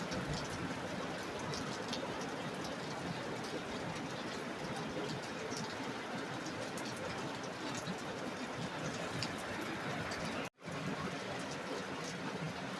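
Rain falls in a steady, dense hiss of drops, loud and unbroken apart from one brief cut near the end, with no voices.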